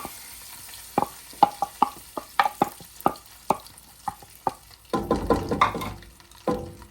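Palm oil heats in a cooking pot for bitter leaf soup, giving scattered crackles, pops and clinks that come in irregular bursts, close and fairly quiet.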